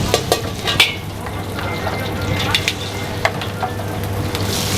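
Nasi goreng being stir-fried in a busy restaurant kitchen for takeaway orders, a steady close sizzle with repeated metallic scrapes and clanks of the spatula against the wok throughout.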